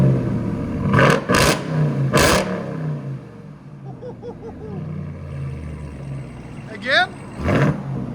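Ram TRX engine fitted with an aftermarket exhaust, revved hard in short loud bursts separated by idle, with people talking in between.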